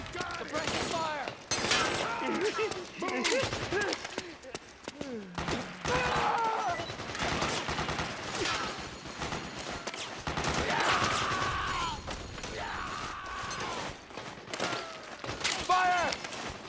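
Gunfire from the video game Metal Gear Solid 4, dense and continuous, with bursts and crashes mixed under shouting voices and game sounds throughout.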